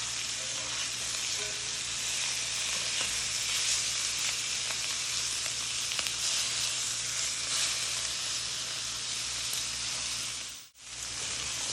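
Chicken sears in a cast iron skillet with a loud, continuous close sizzle and crackle, briefly broken by a short dip near the end as the pieces are flipped.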